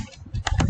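Close keys clatter as code is typed on a computer keyboard, a quick burst of several crisp taps in under a second.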